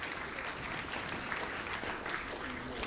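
An audience at an award ceremony for special jury prizes applauds steadily, a dense, even wash of clapping from a large crowd heard throughout at moderate volume.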